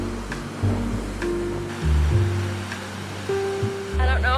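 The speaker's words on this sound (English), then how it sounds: "I don't know how well you can hear me with all the waves, but I made it to the beach!" Ocean waves on a beach in Scotland, a continuous rushing surf wash that swells and falls, fairly loud and close, with faint tones over it.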